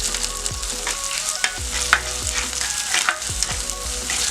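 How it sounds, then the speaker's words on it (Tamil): Finely chopped small onions (shallots) sauté in a pan with curry leaves, a steady close sizzle with occasional stirring scrapes and clicks, no voices. "ஒரு 5 சின்ன வெங்காயத்தை பொடியாக கட் பண்ணியிருக்கேன். இப்போ இதில் போட்டு நல்லா வதக்கிக்கலாம்."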